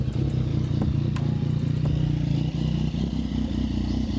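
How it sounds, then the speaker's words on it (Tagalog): A 2020 second-generation Yamaha MT-09 motorcycle idles close by, a steady loud low engine rumble with light mechanical clatter throughout. "ang idle ni Yamaha MT-09"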